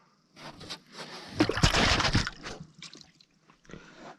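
A perch-fishing lure hits river water on a northern river, making a short splash followed by faint drips and trickles, quiet and close in an otherwise calm outdoor setting.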